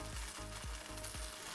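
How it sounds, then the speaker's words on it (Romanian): Anchovies and garlic frying in olive oil in a pan give a steady, close sizzle. Soft rhythmic stirring scrapes recur about every half second. "Într-o tigaie punem ulei de măsline, anșoa și usturoiul,"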